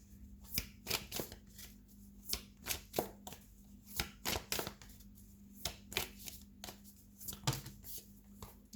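Tarot cards are shuffled and drawn by hand, a series of crisp riffling and slapping bursts at uneven intervals, close but quiet, with no talking.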